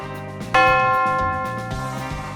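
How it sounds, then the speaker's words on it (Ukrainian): A single bell strikes loudly and rings out with a long, humming decay, alone with no voices. "По кому дзвонить дзвін?"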